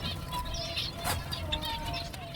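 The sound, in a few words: finch chicks chirping in a breeding aviary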